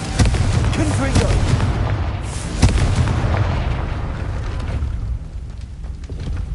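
A Confringo blasting spell from a Harry Potter video game goes off as a loud, broad boom with a sharp burst near the middle, rumbling over a dense bed of game sound and fading slightly toward the end.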